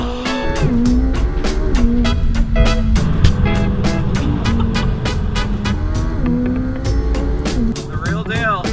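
A McLaren sports car lapping a track with a professional driver at the wheel, its engine revving loudly from the cabin through repeated shifts, with sharp clicks and bursts cutting through the steady roar.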